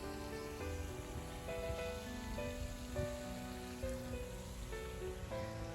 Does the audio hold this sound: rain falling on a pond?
yes